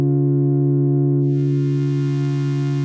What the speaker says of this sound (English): we have a notch, which we blend into. So let's bring in the other oscillator here